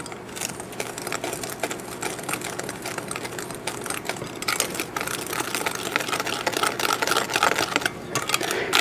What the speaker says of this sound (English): So go ahead and use a whisk to mix them together.